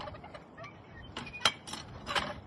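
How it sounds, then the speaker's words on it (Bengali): A large duck calls at an outdoor spring picnic in Michigan, with a few short honking bursts that grow louder toward the end. "এই দেখো হাঁস কত বড়"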